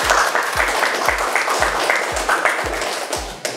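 Classroom of pupils clapping together in a steady, fast rhythm for a few seconds, loud and close, with no talking over it.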